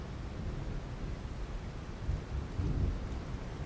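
Steady rain hisses over a low rumbling wash in the video game Path of Titans, with a slightly louder swell of rumble near the end; no voices.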